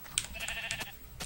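Faint, brief bleats from a brown sheep in a Minecraft-style video game, a couple of short calls within about a second.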